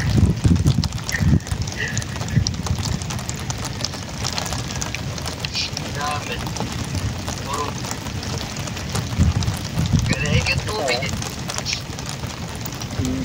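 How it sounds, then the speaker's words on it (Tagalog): Steady rain falls outdoors during a typhoon, a dense continuous hiss with gusty rumble, while people talk in the background. "umulan na uli"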